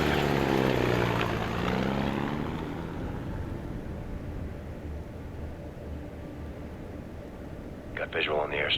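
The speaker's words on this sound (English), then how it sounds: "Looks like the plane's prepping for takeoff." A propeller plane sits at an airstrip readying for takeoff, its engine putting out a steady low drone that is loudest at first and eases slightly, with a brief burst of higher noise near the end.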